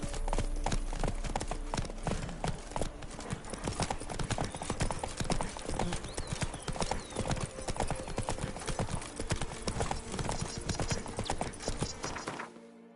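Horse hooves clip-clop in a steady, loud, close rhythm on a hard surface, continuing almost the whole time before stopping abruptly at the end.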